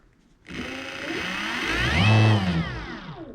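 Vevor 1800W electric motor kit on a Razor RSF650 dirt bike switching on and spinning up, a rising whine climbing in pitch and loudness over a few seconds, heard alone up close.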